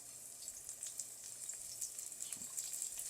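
Green onion whites sizzling in olive oil in a pan, a faint, steady crackle and fine spitting pops with no voices.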